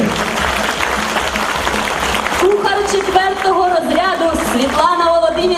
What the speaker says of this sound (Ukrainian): Давайте ми их встретим, конечно же, бурними аплодисментами.